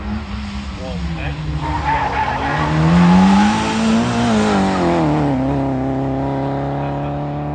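Hillclimb race car with a 1275 BMC A-series engine, climbing near the top of the hill at Harewood: a loud, close engine note rising and falling through gear changes, with a commentator talking over it.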